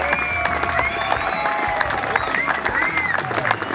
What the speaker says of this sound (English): give an extra round of applause